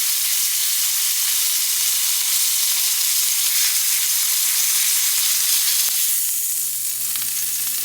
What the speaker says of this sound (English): you can kind of just sear it like this and just hold it there